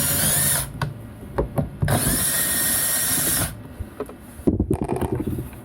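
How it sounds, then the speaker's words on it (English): A power drill removing screws from a display foot pad whirs in several bursts, starting and stopping, with short runs and clicking pauses between, close and loud. "we have a drill just to make it a little bit quicker"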